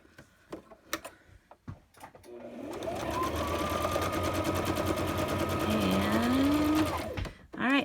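A sewing machine stitches a side tuck down the middle of a journal ephemera holder, starting after a few quiet taps and running in a steady whirring burst for about four seconds before stopping abruptly.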